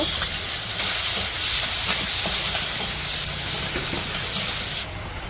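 Sliced onion and green chilies sizzle loudly in oil for a village-style fish curry, a steady dense hiss running throughout before dropping in level near the end.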